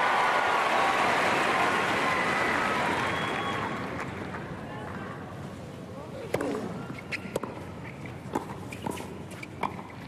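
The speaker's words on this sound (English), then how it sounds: "How about a round of applause for our server here, Rafa." Crowd applause for Rafael Nadal at the Rally for Relief tennis exhibition: dense clapping swells at the start, then thins and fades after a few seconds, leaving scattered claps and faint background sounds.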